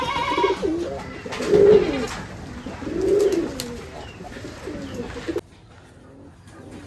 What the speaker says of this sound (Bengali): আর এই হলো দোবাজ কবুতর